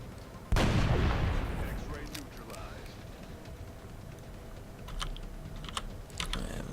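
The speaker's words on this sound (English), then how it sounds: "may as well take the shot with a sniper" A sniper rifle fires once in the video game XCOM: Long War, giving a single loud, booming shot with a long ringing decay, followed by faint clicks and quieter game sounds.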